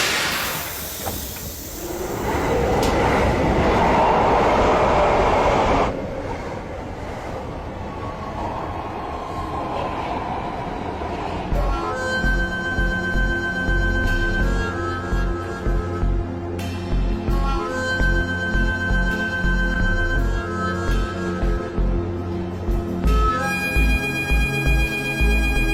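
A metro train running, first a loud rushing hiss and rumble, then steady rhythmic wheel clatter with tonal motor whine inside the carriage, close and continuous with no talk.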